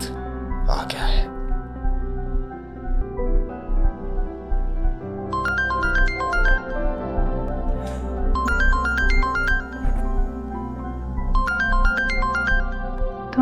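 A mobile phone rings in a domestic drama scene, its bright melodic ringtone phrase repeating three times over a low background score and hushed voices.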